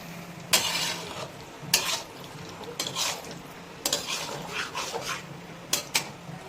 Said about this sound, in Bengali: এবারে পনিরটা দেখুন মশলা দিয়ে ভালো করে মিক্স করছি